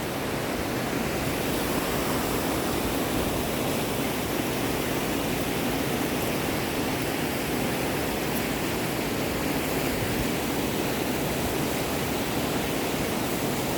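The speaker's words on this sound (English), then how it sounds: "sound of water, the rippling sound, gushing sound, flowing sound, all different sounds of water." Rushing water near a double-decker living root bridge in Meghalaya, a steady close wash of gushing, rippling flow with no break and no voices.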